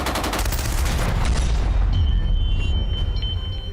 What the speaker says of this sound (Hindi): एक साथ कई बंदूकों से ताबड़तोड़ गोलियां दागी गई